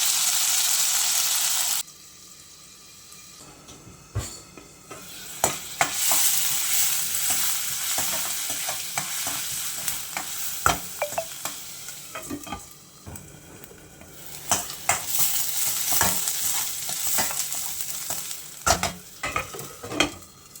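Onion sizzles in hot oil in a pan for a wild-vegetable dish, a loud steady hiss with repeated scraping and clanking stirs of a utensil, and no one speaking.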